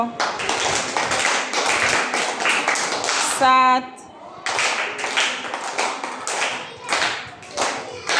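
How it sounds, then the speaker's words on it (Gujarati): Grade 2 schoolchildren in an Isanpur Public School classroom clap together in a quick series of sharp, close claps, with voices between and around them. "ચલો 5 તાળી પાડો"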